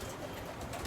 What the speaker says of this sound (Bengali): আপনারা দেখতে পাচ্ছেন প্রতিদিনের মতো আজকেও আমার কবুতর